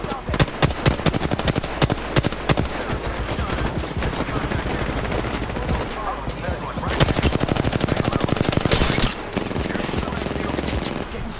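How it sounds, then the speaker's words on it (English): Rapid automatic gunfire in the shooter game Apex Legends rattles almost without pause, loud and dense, with bursts overlapping throughout and brief lulls between volleys. "Getting shot at."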